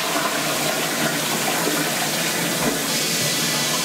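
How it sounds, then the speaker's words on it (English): A toilet flushes with a loud, steady rush of water, close up and continuous, with a small gurgle near the end and no talking. "The toilet flushed."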